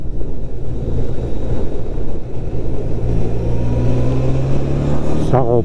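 A Honda CB 1000 R 2022 four-cylinder motorcycle fitted with an IX Race silencer pulls from low revs in sixth gear, a steady loud engine drone mixed with heavy wind rush on the open road.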